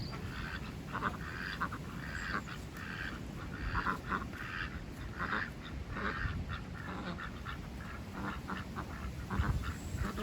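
Ducks quack repeatedly in short, bright bursts through a steady outdoor bed of noise, a lively flock close by with calls overlapping and no one talking.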